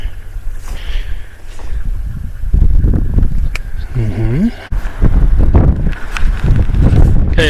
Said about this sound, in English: I'll try to speak so you can hear me over the wind